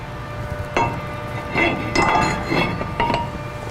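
Metal clinks as a new brake rotor is set onto the front hub of a GMC Sierra pickup, with several sharp taps and knocks spread across the moment, close by and moderately loud.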